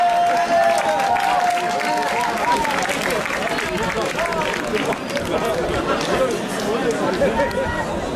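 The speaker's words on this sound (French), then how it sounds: "peut tous les applaudir encore une fois." Applause for gavotte dancers at a Breton Gavotte Pourlet competition in Saint-Yves, a continuous crowd clapping mixed with chatter and a voice over the noise.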